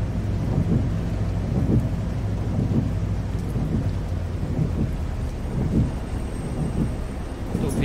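Heavy rain pours steadily with repeated low thunder rumbles in the Proton Bus Simulator driving game, a dense continuous wash with no speech.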